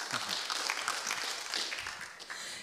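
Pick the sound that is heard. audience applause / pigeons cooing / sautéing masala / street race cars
audience applause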